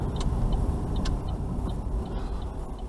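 Car traffic streams past on a busy road, heard from inside a vehicle waiting at a junction, with a steady dense road rumble and passing engines that stays loud and continuous throughout.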